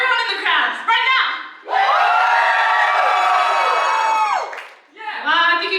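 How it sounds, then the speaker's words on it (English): Loud cheering and shouting from the crowd at an idol concert's first solo live show in Perth, swelling into a long sustained roar, with bursts of voices before and after. "Can I hear a big, big cheer from everyone in the crowd right now?"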